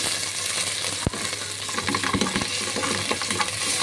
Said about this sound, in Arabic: بقى الثوم يفك كده معايا ويتحمر كويس مع البصل